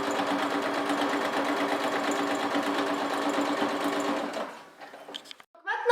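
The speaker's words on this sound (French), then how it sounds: "On rabaisse le pied et on repart sur une nouvelle couture." Sewing machine stitching a seam on fabric for a bread basket, a steady fast mechanical whirr running continuously for about four seconds, then stopping, followed by a few faint handling clicks.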